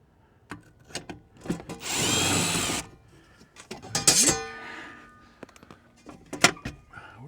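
A power drill spins out screws inside a solar shed, one loud close whir lasting under a second, then another brief burst amid wood knocks, clatter and some talk.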